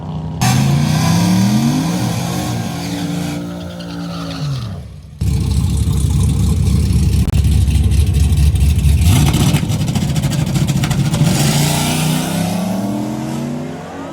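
Loud hot rod engines roar and rev as the cars race past on the street, rising in pitch, dropping briefly, then surging again with sustained high-powered acceleration.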